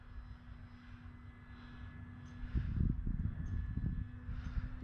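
Carbon Z Cub RC airplane flying at half throttle, its electric motor whining steadily overhead, a low hum that grows louder and rougher as the plane passes closer midway.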